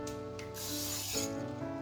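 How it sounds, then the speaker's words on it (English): Baking spray hisses onto a baking pan in a soft, steady spray lasting just under two seconds, faint and close with no speech. "this is not my favorite baking spray"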